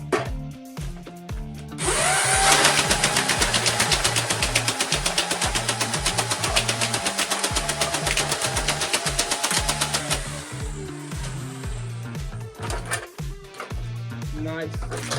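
A modified Nerf Vulcan blaster fires a 50-round belt in a loud, rapid mechanical rattle that runs for about eight seconds and then stops. Motor whirring and clatter sound before and after the burst.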